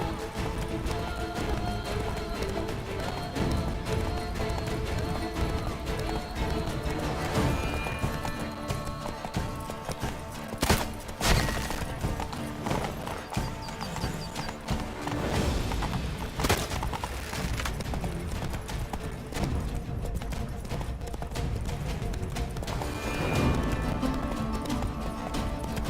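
Horse galloping in The Witcher 3: continuous rhythmic hoofbeats under game music and ambience, with occasional louder thumps and a brief whinny.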